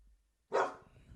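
A single dog bark bursts in at close range after a short quiet stretch, loud and sharp, then trails off into a faint rustle.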